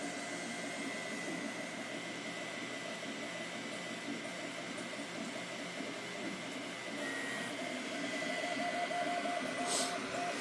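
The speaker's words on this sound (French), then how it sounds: "Ce que je trouve incroyable avec cette imprimante, c'est l'accélération." An Anycubic Kobra 3 3D printer runs at high acceleration, giving a steady, loud mechanical whir with whining motor tones that continue throughout without pause.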